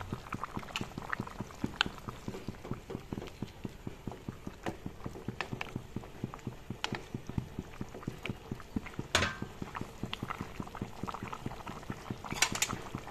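Fish curry with potatoes bubbling in a pot on the stove, a dense, steady simmer of pops and gurgles with occasional brief clinks of utensils, close and moderately loud, with no voices.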